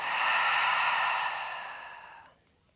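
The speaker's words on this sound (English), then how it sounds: "Deep breath out." A long, deep exhalation through the mouth during a slow yoga practice, a close, steady airy breath that fades out gradually over a few seconds.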